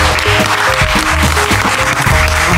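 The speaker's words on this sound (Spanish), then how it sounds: "Un aplauso," Short burst of clapping from a small group at a meal of arroz a la tumbada in Tlacotalpan, loud and close, layered over background music.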